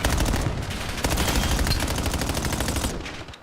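Rapid automatic gunfire rattles without pause during a Call of Duty match, a loud, dense stream of close shots that continues for about three seconds before tapering off, with no speech.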